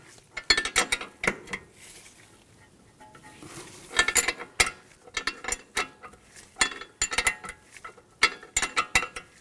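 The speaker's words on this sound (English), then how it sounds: "Loosen up the nut." Metallic clicking and clanking from a 16mm wrench and socket working the nut on a front shock bolt of a 2004-2009 Audi A4 Quattro, sounding in several close, irregular bursts with short pauses between them and no talk.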